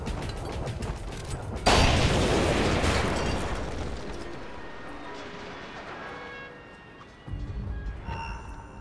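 A grenade explodes in the video game Splinter Cell: Conviction, a sudden loud blast that rumbles and slowly fades, followed by quieter game sounds.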